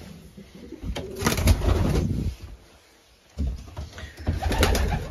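Belgian racing pigeons coo in a breeding loft during the breeding season. Close, repeated coos come in two bursts separated by a brief quiet gap.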